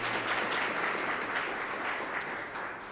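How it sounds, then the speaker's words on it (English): An audience at a transportation forum gives a sustained round of applause for the speakers, steady and dense throughout, with no voices over it. "Let's give them a round of applause for their joining us here today."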